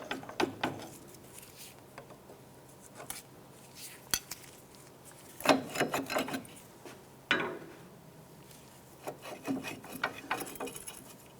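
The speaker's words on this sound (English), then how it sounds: "Using a pry bar, go ahead and just work the brake caliper off." A pry bar working a brake caliper off a 2001-2007 Ford Escape, heard as irregular metallic scraping, knocks and grinding bursts at close range, with quiet pauses between efforts.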